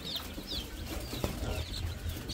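Chicks in a small flock cluck and cheep in short repeated calls over a busy background of rustling and movement, close and without talk.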